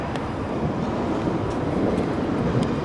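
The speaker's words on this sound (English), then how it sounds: "oh, there's a train there" A train rumbling past near the Upper Bank Street swing bridge at Canary Wharf, a steady low roar with some wind buffeting, fairly loud and close, no talking.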